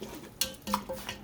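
A spoon or spatula clinks and scrapes against a pan as reheated sautéed vegetables are stirred for a Philly cheesesteak, with a few light metallic taps at close range and a faint sizzle.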